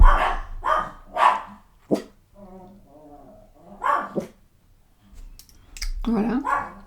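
Several dogs barking at a cat passing in the street, a burst of sharp barks at the start and again near the end, close and loud, with someone talking in the quiet stretch between them.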